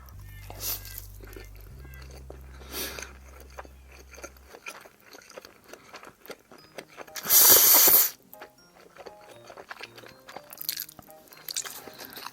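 Crunchy, wet chewing of perilla oil buckwheat noodles wrapped with raw beef tartare, close to the mouth with soft bites and smacks, plus one brief loud burst partway through.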